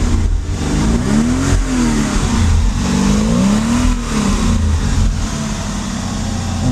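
A Mercedes 450SL running MegaSquirt fuel injection idles with a steady, rumbling exhaust note, loud and close, the pitch wavering slightly as the idle hunts up and down.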